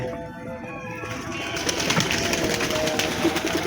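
Pigeons coo in a soft, rolling series at a fair-day outing, starting quietly and then partly buried under a rising wash of crowd and background noise, with faint voices.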